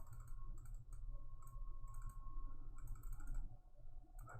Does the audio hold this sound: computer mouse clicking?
yes